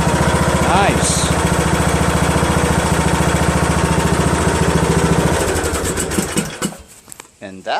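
A Craftsman LT2000 riding lawn tractor with a 19.5 HP engine and 42-inch deck runs loud and steady right after a valve lash adjustment, its throbbing idle continuing for about five seconds before it wavers and fades out near the end.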